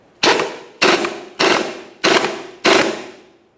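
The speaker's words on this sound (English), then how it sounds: "Now I'm going to hold on to that mounting nut while I continue tightening my bolts." Impact wrench or ratchet hammering on bolts to press a wheel bearing hub out of a 2007-2017 Jeep Patriot rear axle: five sharp, loud mechanical bursts at even intervals, each decaying quickly, with no talk.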